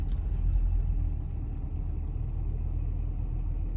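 A vehicle drives around a farm where old fire trucks and a bus sit parked, giving a steady, close low engine rumble that holds evenly throughout with no talking.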